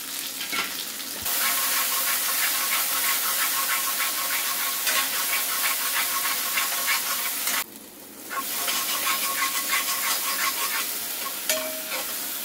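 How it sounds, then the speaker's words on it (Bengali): Spice paste with sesame seeds sizzles in hot oil during Bengali jackfruit cooking, a steady loud frying hiss with stirring scrapes, broken by a brief drop in the sizzle partway through. "মশলাটাকে আমি এবার এই তেলের মধ্যে একটু ভেজে নেব"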